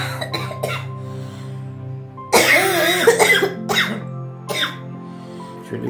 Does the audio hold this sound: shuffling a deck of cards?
no